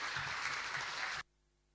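Audience applause at a national short film competition as a film crew is called to the stage, dense even clapping that cuts off suddenly into near silence.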